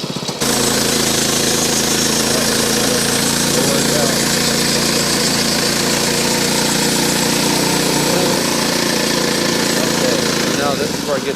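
A chainsaw engine runs loudly and steadily with a rough, rattling idle throughout, close and unbroken, with faint talking under the noise.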